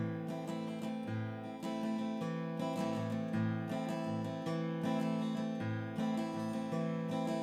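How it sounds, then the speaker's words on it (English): An acoustic guitar plays a steady strummed pattern with alternating bass notes, the chord strokes ringing close and clear in an even rhythm, with no talking over it. "So you hear that alternating bass?"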